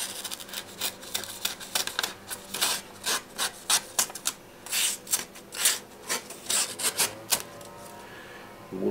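A knife blade of LO-R4528 steel saws repeatedly across a taut rope in a cutting test, producing a close rhythmic series of rasping strokes that come roughly twice a second.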